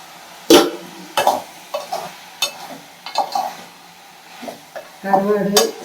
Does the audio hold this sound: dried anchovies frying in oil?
yes